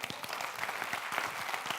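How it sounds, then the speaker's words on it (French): Audience applauding the organisers at a welcome session of a camp event, dense, steady clapping from a crowd, moderately loud and continuous with no voices over it. "avec un énorme applaudissement pour nos 2 gentils organisateurs"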